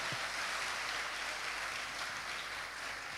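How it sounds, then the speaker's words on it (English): An audience at an international economics seminar claps for the speakers, a faint, distant, even wash of applause running throughout with no talk over it. "let's give a big round of applause to all of our speakers"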